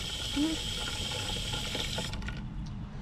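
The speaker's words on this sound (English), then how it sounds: "then we can also water the planting soil" Water pours onto planting soil in a Costco automatic planter, making a steady, close trickle with a few faint mechanical clicks. The pour thins out near the end.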